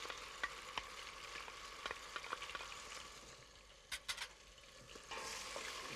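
Chunks of lamb and onion fry in a pan with a soft, continuous sizzle, punctuated by light scraping clicks from stirring, heard close but quietly.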